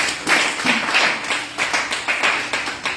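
Church congregation clapping in unison to acclaim the Lord, loud rhythmic claps in a steady beat filling the room.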